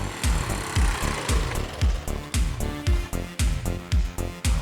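A 1973 Honda CB 125 motorcycle engine chugs close by in a loud, loping putt-putt rhythm of heavy low thumps, sounding rough and on the verge of stalling.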